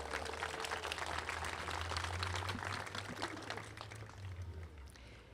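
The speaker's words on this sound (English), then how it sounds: "I think we need to give them a round of applause for that" An audience at a municipal event on Palestine gives a round of applause, a steady wash of clapping heard from a distance over a low rumbling hum, fading slightly toward the end.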